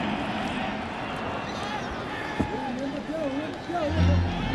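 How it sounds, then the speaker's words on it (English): A vocal crowd at a baseball stadium cheers for Team Mexico, a steady roar of babble in the background beneath a commentator's voice, with a sharp knock partway through and a swell of noise near the end. "you could hear the crowd in the background, a very, very vocal crowd last night, supportive of Team Mexico"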